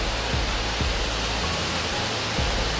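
Heavy rainy-season downpour in Singapore makes a loud, constant wash of rain noise, with a few low thuds scattered through the steady roar and no speech.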